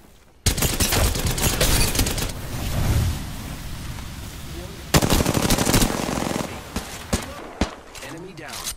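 Rapid machine-gun fire rattles in two long, loud bursts during a battle-royale video game, broken by a pause and followed by scattered single shots, with character voice lines heard over parts of it.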